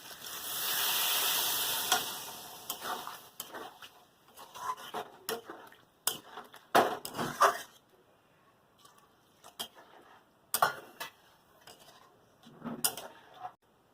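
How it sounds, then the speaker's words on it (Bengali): Water added to a pan of potato and pointed gourd curry, with clattering pot and utensil sounds, bursts of sizzling and hiss, then quieter stretches broken by short metallic clinks. "এবার পরিমাণ মতো জল দিয়ে দেবো।"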